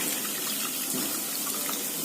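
Tamarind extract is poured into a pan of dry fish gravy, a continuous close liquid pour with steady splashing and sizzling texture, unbroken for the full two seconds.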